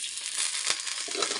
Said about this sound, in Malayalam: എന്നിട്ട് ഇങ്ങനെ ഇളക്കി കൊടുക്കുക.